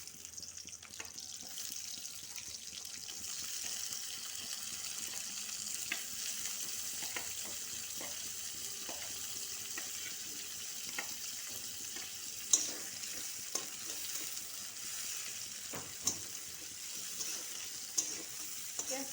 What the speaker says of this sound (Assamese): তেলখিনি গৰম হৈ গৈছে পিয়াজ দি দিছো